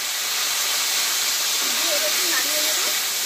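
Jujubes hit hot oil seasoned with panch phoron and dried red chillies, producing a loud, steady, hissing sizzle that continues without pause, with faint traces of a voice beneath it.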